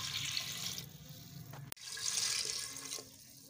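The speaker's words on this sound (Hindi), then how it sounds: "अब हम इसमें पानी डाल के इसको प्रेशर दे देंगे, 2 से 3 कप जितना भी पानी रिक्वायर्ड हो।" Water gushes into a pot of browned mutton for achar gosht before pressure cooking, a loud close pour broken by a sharp clack midway, then a second strong stream that tapers off near the end.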